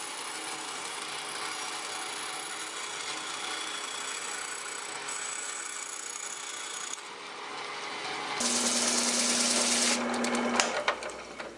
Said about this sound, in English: A 1/4 inch blade on the bandsaw is all it takes to cut out this curve.